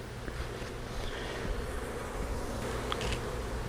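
Honeybees buzz around an opened hive as frames are handled, a dense, continuous close drone with individual bees flitting nearer at moments, steady and unbroken with no talk.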